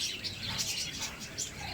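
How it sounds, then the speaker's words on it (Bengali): Caged birds such as budgerigars chirp in quick, high bursts at a busy outdoor livestock and bird market, the tweets close and lively over a murmuring background. "এখানে কিছু পাখিও দেখা যাচ্ছে"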